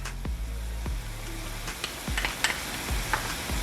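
Ground beef with garlic frying in a pan, a steady soft sizzle broken by several dull knocks and scrapes of a utensil stirring the meat, heard up close with no talking.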